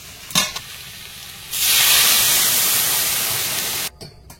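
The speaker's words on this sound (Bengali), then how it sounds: "অল্প করে লবণ, শুধু লবণ আর হলুদ দিয়ে ভাজে নেব। বড় আলুটা ভালো করে ভেজে নিস" Potatoes frying in a pan with salt and turmeric give a steady, loud hiss that swells up midway and then cuts off abruptly, with a few faint clatters before and after.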